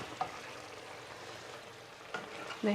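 Spicy stir-fried catfish being stirred in a pan, a continuous close sizzle with a couple of brief utensil scrapes near the start and end, no talking.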